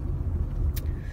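A car drives slowly through a residential construction zone where new houses are going up, its steady low engine rumble and road noise continuous and close throughout, with a brief faint hiss partway through.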